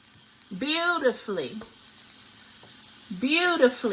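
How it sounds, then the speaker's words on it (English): Gala apple slices sizzle and fry in melted butter in a pan, a steady close crackle running throughout, with a voice talking over it in two short bursts. "delicious gala apple slices. I'm just going to lay them right here in the pan, right in the butter, so they can soften up beautifully."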